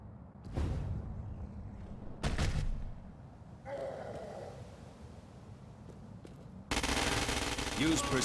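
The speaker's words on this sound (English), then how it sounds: "The ordnance you now hold is a standard-issue agency assault rifle." An agency assault rifle in the video game Crackdown 2, firing two short separate bursts, then a longer loud volley at the end, with quieter game ambience in between.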